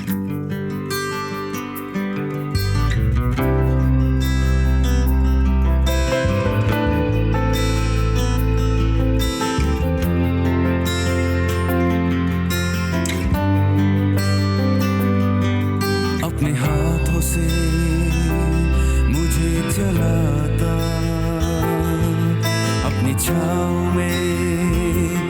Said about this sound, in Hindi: और चलते चलते हम आपको ये खूबसूरत गीत सुनाना चाहते हैं, यीशु तेरा प्यार।